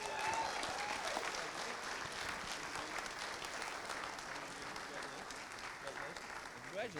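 An audience at a school board meeting applauds a high school band honored by the state bandmasters association: sustained, dense clapping for about seven seconds, steady and full throughout, with a few faint voices mixed in.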